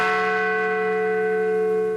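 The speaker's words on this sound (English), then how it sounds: "At 8:46 this morning, the tolling of a bell." A single bell tolls at a 9/11 commemoration, a loud sustained ringing tone that hangs steadily and slowly decays.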